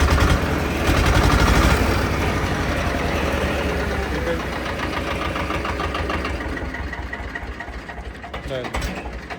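A Ford 3600 tractor's diesel engine idles steadily close by, a loud, low, continuous chugging throughout, with people talking over it.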